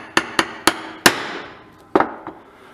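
A hammer strikes a punch on a Craftsman 22-inch hedge trimmer part: six sharp, close metallic taps at an uneven pace, each ringing briefly before the next.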